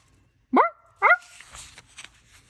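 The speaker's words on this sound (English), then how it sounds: "He's just barking." Two short barks from a dog, close by, followed by quieter rustling and faint background noise.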